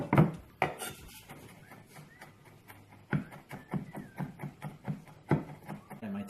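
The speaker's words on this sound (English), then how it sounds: "just chop it up" A knife chopping peeled garlic cloves on a wooden board in a home kitchen, a run of sharp close taps, first scattered, then a quicker steady rhythm.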